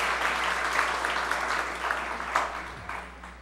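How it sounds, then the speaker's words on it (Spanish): A church congregation applauds a member at a Sunday service, steady group clapping from many hands over a low electrical hum, tapering slightly toward the end. "Un aplauso, hermanos, a nuestra hermana Rosa."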